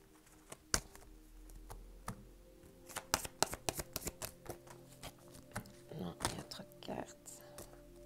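Tarot cards shuffled by hand in a series of soft, crisp riffling bursts and taps, close and fairly quiet, with a voice speaking French at points between them.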